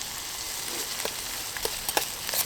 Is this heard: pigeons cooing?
no